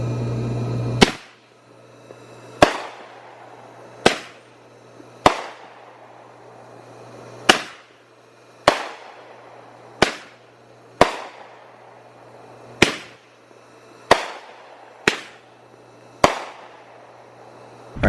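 Loud consumer fireworks called window shakers go off in a home firework show: about a dozen sharp, booming bangs, each with a brief crackling tail, spaced one to two seconds apart, with no voices.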